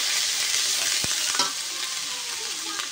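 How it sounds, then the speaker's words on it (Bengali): Ground spice paste sautéing with fried pointed gourd in a pan, a continuous bright sizzle with a few soft scrapes and taps of a spatula, close and steady throughout. "এবার ঢেলে দেব। দিয়ে ভালোভাবে কষায় নেব।"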